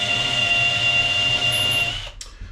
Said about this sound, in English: send the ream through.